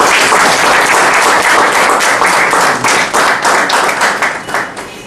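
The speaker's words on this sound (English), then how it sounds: "Please join me in welcoming Toastmaster Anand Bhairav with a big round of applause." A Toastmasters meeting audience gives a new Toastmaster a big round of applause, loud, dense clapping from many hands that carries on for about five seconds before starting to thin out.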